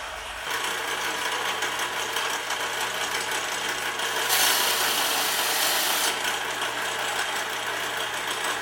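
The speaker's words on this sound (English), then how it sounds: "Handy dandy welder." A welder works on a titanium exhaust Y pipe, giving a steady, loud broadband hiss and crackle with a low constant hum beneath, brightening for a couple of seconds midway, with no talking.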